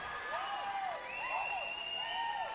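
School cheer squads cheer at a junior swimming carnival, a steady crowd roar with rising and falling shouts and whoops filling the whole stretch, loud and close, with no distinct talk over it.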